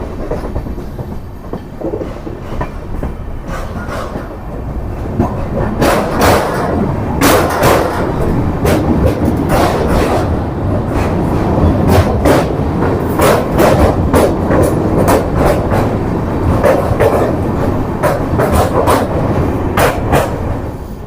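LHB-coach Lahori Express (Dehradun–Amritsar) running on rails after Beas Junction, a steady loud rumble with repeated clickety-clack wheel beats over joints, continuous and close throughout.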